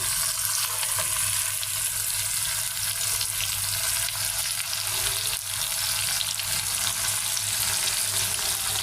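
Prawns fry in a pan with spices, giving a steady, close sizzle that holds without letup, with light scraping from stirring and no voices.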